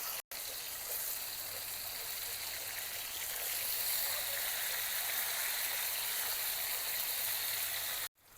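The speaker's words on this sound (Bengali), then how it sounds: "একই তেলের মধ্যে ধুয়ে রাখা কচু ভেজে নেব।" Taro frying in oil in the same pan used for fish, a steady close hiss and sizzle that stays even throughout, fairly quiet, with no talking.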